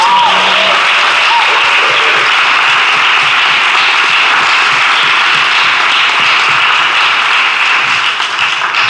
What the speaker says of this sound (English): Please give a round of applause to these awesome panelists.